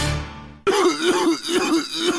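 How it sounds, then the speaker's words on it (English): After a brief musical tone cuts off, a man coughs and clears his throat several times in rough, close bursts, in a radio ad in GTA San Andreas. "Sounds like you got a nasty cough."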